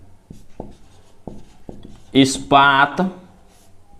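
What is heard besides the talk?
writing out a maths solution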